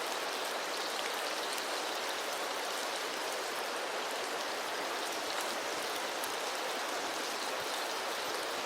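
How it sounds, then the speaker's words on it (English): Steady rain patters on a canvas military pup tent shelter, a dense, even hiss of droplets that holds constant and close without pause. "I'm definitely feeling some droplets hit me."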